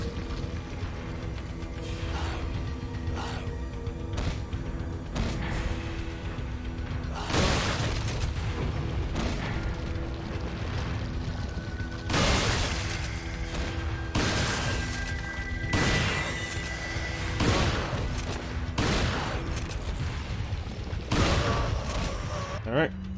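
Gunfire in the Resident Evil 4 video game, a string of sharp booming shots at irregular intervals over a steady bed of game music and ambience.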